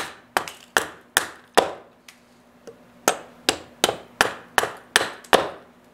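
A carving axe chops dry walnut wood in sharp, evenly spaced strikes, about a dozen crisp close knocks with a short pause midway.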